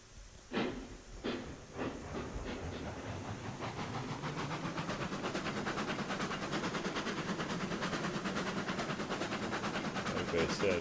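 A steam yard locomotive in a railroad sim game: a few sharp chuffs at the start give way to a steady, rapid chuffing exhaust and hiss that continue at moderate volume, with occasional faint voice.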